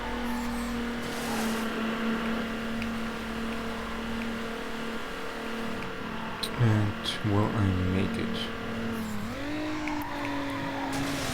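Car engine drone in the racing game Need for Speed Underground, a steady hum that surges into revving and brief tire-squeal bursts near the end, with someone talking over it.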